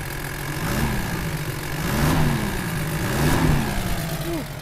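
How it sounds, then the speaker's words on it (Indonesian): A 1997 Toyota Land Cruiser VXR80 with a 1HD-T turbo diesel without intercooler, idling with a steady low clatter and a couple of gentle revs that rise and fall, loud and close. "Ini mesin adalah mesin 1 HDT turbo diesel non intercooler"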